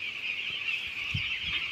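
Chickens ten days old on a poultry farm give a dense, continuous chorus of high peeping calls, steady and moderately close, with a few soft low thumps underneath.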